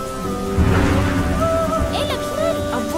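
Rain falls steadily in a scene from a Hindi-dubbed South Indian film, a constant broadband hiss with voices and other sounds layered over it.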